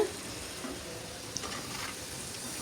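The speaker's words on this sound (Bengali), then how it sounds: "এখন ভালোভাবে নেড়ে চেড়ে ঢেকে দেব" Potato and meat curry is stirred in a pan, giving a soft, steady sizzle with faint scraping, low and close with no voices.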